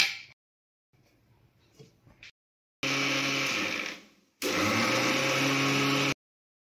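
An electric mixer grinder blends soaked rice and urad dal into a fine, thin idli batter, running in two loud, steady whirring bursts with a short pause between them after some quiet handling sounds.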